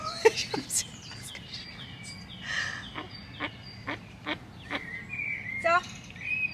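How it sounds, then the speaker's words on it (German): A mother duck gives repeated short quacks and calls at irregular intervals close by, mixed with chirps and someone speaking in German. "Daisy, Mama Ente."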